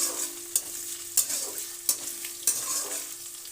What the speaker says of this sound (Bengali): অল্প পেঁয়াজ কুচি দিয়ে এবার ভালো করে নেড়ে নিলাম